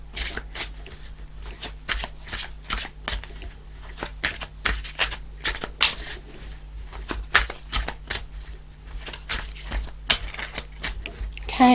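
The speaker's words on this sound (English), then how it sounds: "So I'm just pulling the cards and seeing what the message is." Tarot cards are shuffled and pulled from the deck, a long rhythmic series of close, papery riffles and flicks over a faint steady hum, with no voices.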